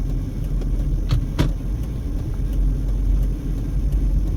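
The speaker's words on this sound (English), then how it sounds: "There's a whole lot of cross traffic here." Cross traffic on Buffalo Drive just south of the Summerlin Parkway interchange in northwest Las Vegas: a continuous low road rumble with vehicles whooshing past, fairly loud and steady.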